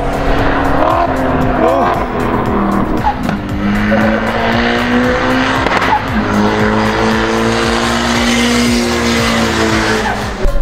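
Race cars at a drag racing day at Codegua racetrack in Chile, engines revving hard with repeated gear changes and tire squeal, loud and close, rising engine tones overlapping one another throughout.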